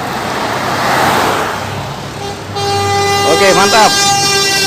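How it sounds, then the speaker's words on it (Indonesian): Napin Poseidon bus sounding its horn, a long, loud multi-tone blast over road and traffic noise, with someone speaking briefly just before it. "Klakson terpanjang dengan Napin Poseidon"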